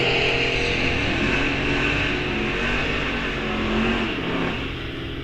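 Drag race launch at Rock Falls Raceway, a Dodge Challenger against a Chevy pickup, heard as a steady loud engine roar from a distance, droning and sustained for the whole stretch with a slight swell near the end.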